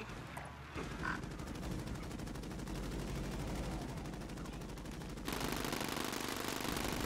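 Gunfire echoes through a Call of Duty Warzone match as a dense, rapid crackle of shots keeps up without a break and swells louder toward the end, with faint voices underneath.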